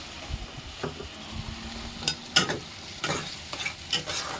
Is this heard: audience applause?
no